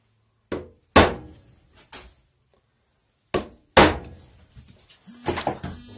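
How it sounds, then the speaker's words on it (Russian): Center punching metal plates by hand before drilling holes in a homemade build: a handful of sharp metallic taps and thunks at uneven intervals, close and fairly loud, with quiet gaps and a little handling noise. "Так, сейчас все немножечко закерню."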